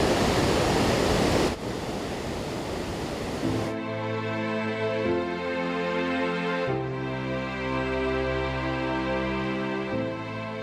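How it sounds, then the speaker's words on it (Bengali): Bhatinda waterfall in the Dhanbad area, water rushing down in a broad steady roar, continuous and close, with tonal layered sounds over it later, no voices. "এই হচ্ছে ভাটিন্ডা ওয়াটারফল। দেখুন কি অঝরঝরে জল বয়ে আসছে।"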